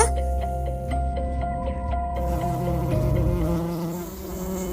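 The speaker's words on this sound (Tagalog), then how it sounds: "bakit may mga insekto lumalabas sa pisngi at mga mata mo?" Insects buzzing as a horror-drama sound effect, a dense continuous drone of flies and bees with ticking pulses early on, swelling into a thicker swarm texture, close and sustained.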